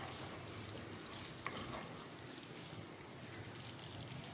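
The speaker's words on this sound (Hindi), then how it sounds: "ये देखिए, मसाला बहुत अच्छे से भुन चुका है।" Masala for a red kidney bean (lobia) curry roasting in a pan, giving a quiet, steady low sizzle with a faint stir partway through.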